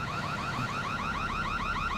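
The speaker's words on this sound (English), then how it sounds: "I guess the alarm is still going off." A car alarm in Grand Theft Auto IV wails in a steady, rapidly repeating siren pattern, loud and continuous throughout with a low rumble beneath.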